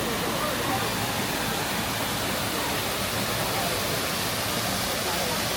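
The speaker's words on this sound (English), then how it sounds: "look at the top of the waterfall" A waterfall at a Disney theme park, heard as a steady, dense rush of falling water that stays even and loud for the whole stretch, with people talking faintly underneath.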